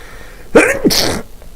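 A single loud, close sneeze: a quick sharp intake followed by an explosive burst, then quiet.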